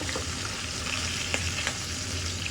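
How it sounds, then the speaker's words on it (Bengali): Hilsa fish fry in oil in a frying pan, a dense, even sizzle heard up close throughout, with a couple of light utensil taps. "আলহামদুলিল্লাহ অনেক সুন্দর করে ভাজা হয়ে গেছে, একটা মাছও আমার ভাঙেনি আর ফ্রাই প্যানেও লাগেনি।"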